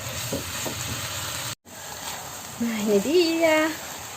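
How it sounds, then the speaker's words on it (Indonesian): Papaya leaves and papaya flowers being stir-fried with spices in a pan, giving a steady soft sizzle with a brief cut partway through, while a voice speaks over the cooking. "Lalu kita aduk lagi sampai bumbunya meresap semua."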